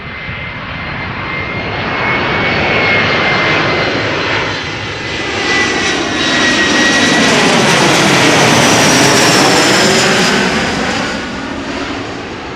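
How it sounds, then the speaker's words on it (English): An Embraer 175 jet airliner arriving at Amsterdam Schiphol Airport passes close overhead, a loud sustained jet roar that swells and shifts in pitch as it goes by, with no speech. "Embraer 175 arriving from Southampton"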